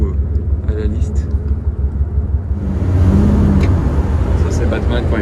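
The Batmobile drives along the Monaco Formula 1 circuit, its engine a loud, steady low rumble that swells in the second half, with a voice talking over it.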